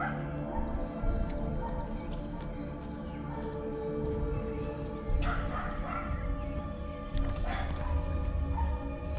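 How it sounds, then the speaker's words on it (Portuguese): Dogs bark from a nearby small farm next to a house with a large pool. A few sharp barks stand out over a constant noisy background, with a louder pair of barks later on. "por isso tem barulho de cachorro aí"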